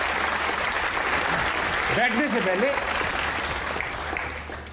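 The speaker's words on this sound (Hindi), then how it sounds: "इतनी लंबी तालियां मैंने आज तक किसी के लिए नहीं सुनी" A studio audience at a comedy talk show claps steadily, the applause running underneath talk and fading slightly toward the end.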